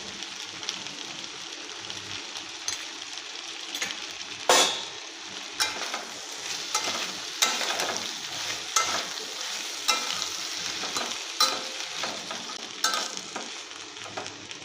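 Turmeric and chili powder are stirred into pumpkin and greens frying in a pan, with a steady sizzle and repeated spatula scrapes and clacks against the pan, close up and with no talking.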